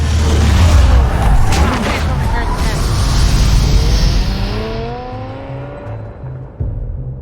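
The Batmobile in Batman: The Telltale Series roars loudly, its engine revving and rising in pitch over a deep rumble, with a voice talking through part of it.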